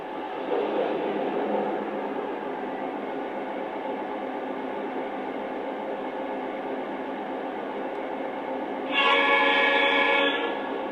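A Lionel Legacy F9 model train sound unit plays a steady diesel locomotive rumble at moderate volume for several seconds, then a brief horn blast sounds near the end, with no voices.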